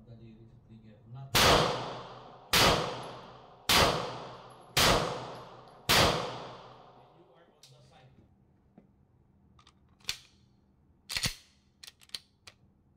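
A Glock 19X pistol fires five sharp, evenly spaced shots at a range, each crack ringing out with a decaying echo, followed by scattered fainter clinks and handling noises.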